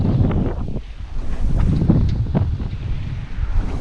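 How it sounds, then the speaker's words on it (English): A sailboat under sail with its motor turned off, on open sea between Dana Point and Catalina Island, gives a rushing wind over the microphone with water washing along the hull and a few brief knocks, close and without talk. "Motor is turned off and I'm sailing"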